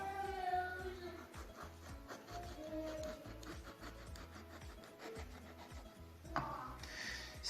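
A knife cuts the peel and white pith from an orange, exposing the flesh. It makes close, quiet, rhythmic scraping and rasping strokes with no talking.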